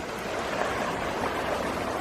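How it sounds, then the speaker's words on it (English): A New Mexico creek running high, steady broadband rushing and burbling of flowing water, close and even, with no other sounds. "So here's a creek, got quite a bit of water in it."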